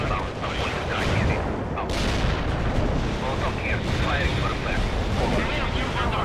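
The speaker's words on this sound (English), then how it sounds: "Just going to use our artillery again though" Artillery barrages pound away in the real-time strategy game World in Conflict, a dense, continuous roar of booms and rumbling explosions with no quiet gaps, loud and close throughout.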